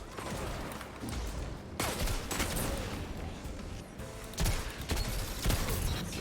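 Game gunfire and grenade launcher blasts from a PvP shooter, with dense overlapping shots and bursts in rapid fusillade-like succession, loud and continuous with heavier booms toward the end.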